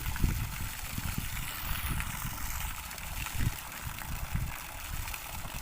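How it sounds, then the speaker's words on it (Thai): Rainwater keeps trickling and gurgling off a German solar panel in stormy weather, a steady close wash of water with occasional low splashes. "นี่ครับดูน้ำไหลครับ"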